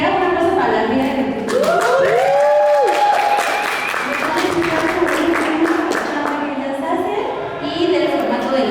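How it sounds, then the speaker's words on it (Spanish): An audience at a talk on sexual encounters, drug use and care applauds a woman introduced by name. Steady clapping runs throughout, while voices cheer and call out over it. "Un aplauso para la Ria"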